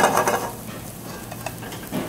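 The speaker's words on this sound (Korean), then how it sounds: "먼저 기름을 팬에 둘러주고 양파를 가볍게 볶아주세요." Onions are lightly sautéed in oil in a pan for a seafood tomato pasta sauce, a close, steady sizzle broken by several scraping stirs of a utensil.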